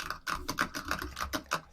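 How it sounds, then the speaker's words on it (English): Computer keyboard keys clicked during a podcast recording, a quick uneven run of close, crisp taps with brief pauses between bursts. "All they can hear is your clicking on the keyboard."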